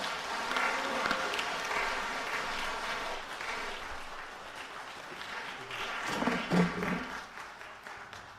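A church congregation in Korea applauds to welcome an associate pastor coming forward during a worship service; broad, continuous applause from a large crowd, steady and fairly distant, swelling briefly before easing.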